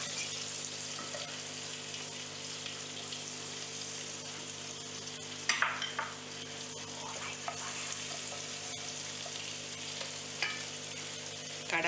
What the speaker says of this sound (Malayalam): ഇനി നമുക്ക് ആ കടായിലേക്ക് കുറച്ച് ബട്ടർ ചേർക്കാം.